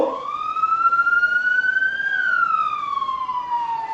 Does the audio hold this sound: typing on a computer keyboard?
no